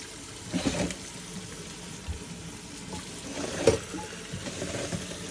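Water runs and splashes over cucumbers being rinsed for pickles, a steady hiss of flowing water close by with a few louder splashes and clunks.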